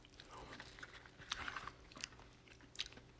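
Close, quiet chewing of a Cadbury caramel egg, soft sticky mouth sounds with a few small crunchy bites spread over a few seconds, no talking.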